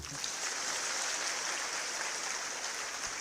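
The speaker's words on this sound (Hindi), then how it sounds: "अपने लिए ताली बजाओ।" A hall audience clapping for themselves at a yoga meditation retreat session, a steady, dense wash of applause from many hands that holds evenly throughout.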